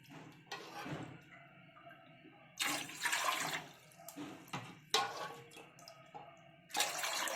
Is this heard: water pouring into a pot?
yes